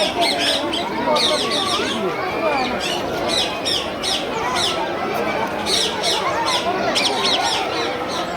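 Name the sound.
parrots squawking at Chittagong zoo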